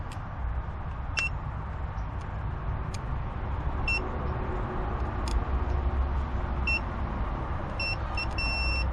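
Short high electronic beeps from a Mercury 300 outboard engine's electronics with lost engine communication, sounding singly and in quick pairs at irregular intervals over a low steady background hum.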